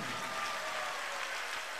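Audience clapping at a spiritual discourse, steady dense applause from many hands filling the space evenly for under two seconds, without pauses.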